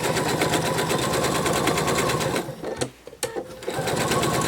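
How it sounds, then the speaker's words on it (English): Sewing machine stitching the gusset of a narwhal plush, a fast rapid-fire needle clatter running steadily up close, breaking off briefly with a few clicks and handling sounds before resuming. "I'm going to go ahead and sew this gusset on"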